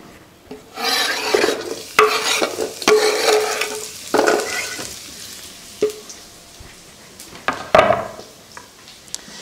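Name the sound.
food frying in a hot pan for a nut roast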